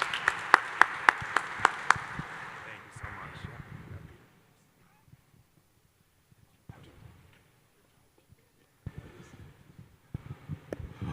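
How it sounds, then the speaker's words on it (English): A conference audience claps for a group of pitching startup companies, a few sharp nearby claps rising into a swell of applause that dies out, with scattered voices and quiet talk afterward. "Let's give them a big round of applause."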